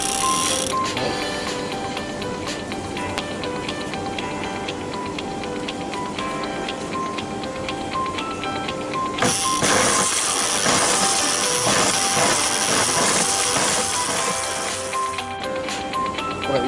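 A spooling machine winds PE braided fishing line onto a fishing reel in a steady, continuous mechanical whir with a rapid ticking rhythm, growing busier and louder partway through, heard up close with no talking.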